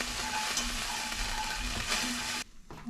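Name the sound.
flour browning and sizzling in a pan for gravy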